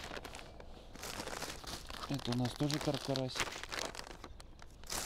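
A packet of carp-and-crucian groundbait crinkles and rustles while feeder-fishing feed is prepared outdoors, with someone talking in Russian over the sound.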